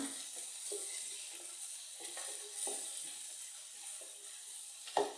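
Steady sizzling of dried red chillies frying in hot oil, with occasional light stirring scrapes and a sharper clink near the end.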